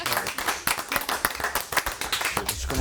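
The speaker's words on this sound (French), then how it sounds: "On peut l'applaudir Tara." Studio audience clapping for the makeup artist on a French TV show's season finale, a fairly close, uneven patter of hand claps from a modest group with some voices mixed in.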